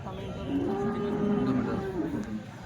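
A cow lets out a long, low moo at a cattle market in Chalisgaon, with a steady hum of market background around it and no clear talk.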